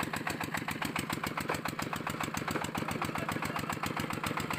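A walk-behind mini tractor with a roughly 35-horsepower motor runs steadily while hauling a trailer through deep mud, a rapid, even engine chug with a harsh mechanical rattle, close and continuous without pause.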